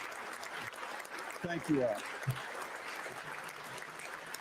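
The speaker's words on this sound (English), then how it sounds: "The judges shouldn't be clapping." An audience applauds at the Minnesota State of the State address, a faint broad clapping wash behind someone speaking over it.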